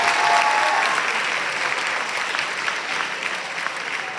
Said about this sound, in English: Let's give Avni another round of applause for being our opening speaker.